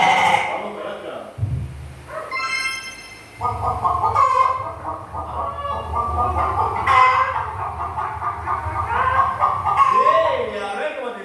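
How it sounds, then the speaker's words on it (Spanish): A hen clucks repeatedly in a farm-animal sound guessing game, its bursts of clucking carrying clearly through the clip while a child and an adult talk and laugh over it. "¡La gallina!"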